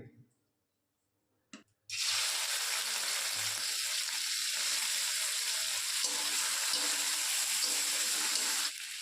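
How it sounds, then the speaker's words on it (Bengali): Prawns dropped into a little hot oil: after a brief quiet stretch and a clatter, a loud steady sizzle bursts in and holds evenly for about seven seconds before easing slightly. "আমরা চিংড়ি মাছটা ভেজে নেব, তার জন্য একটু তেল দিয়ে দেব।"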